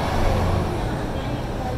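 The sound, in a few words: buses going by on a street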